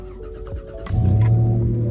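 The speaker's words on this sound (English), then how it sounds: "We're in the truck now, about to start her up." A first-generation Toyota Tacoma pickup's engine cranks and catches, with a brief starter whir and then a sudden, fairly close rumbling idle that carries steadily to the end.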